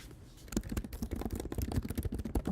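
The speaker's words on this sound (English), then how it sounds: "is what you guys hear as I'm typing to people" Rapid, uneven clicking of keys on a computer keyboard, close and fairly loud, in bursts of keystrokes with no talking over them.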